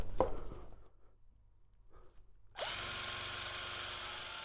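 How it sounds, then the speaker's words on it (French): A power drill bores a hole through two pieces clamped together with a clamp, starting abruptly after quiet handling knocks and then whining steadily and loudly to the end. "vous forez les deux éléments ensemble"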